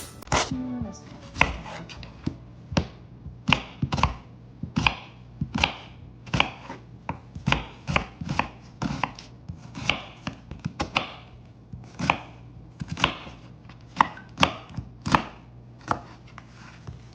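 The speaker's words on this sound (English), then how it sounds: "we're gonna chop our onion" A knife chops an onion on a cutting board in a long series of sharp, close knocks, each about half a second apart and fairly loud, with a faint steady hum underneath.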